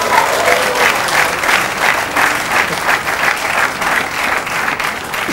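A studio audience claps on a talk show, giving loud, close, continuous applause with a lightly pulsing rhythm and no voices on top.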